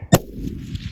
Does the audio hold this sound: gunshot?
yes